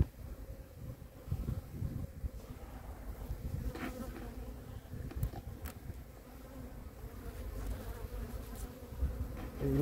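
Many honeybees buzz in an open beehive, a dense, steady humming drone heard up close with light handling noise and a soft breath of wind.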